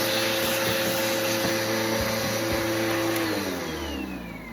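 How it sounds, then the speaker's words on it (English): A vacuum cleaner runs loud and close, steadily whining with a constant motor tone while cleaning an Air Doctor air purifier, its pitch dropping as it begins to wind down near the end. "I always like to give this a good vacuuming as well."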